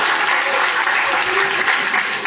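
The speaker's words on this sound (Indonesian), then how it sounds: "Yang setuju tepuk tangan" An audience bursts into brisk, loud applause at a church talk, many hands clapping densely and steadily for a couple of seconds.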